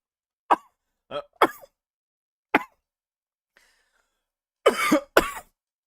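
A series of sharp, close coughs and throat clearing after choking on coffee, separated by brief silences, ending with two harsher hacking coughs.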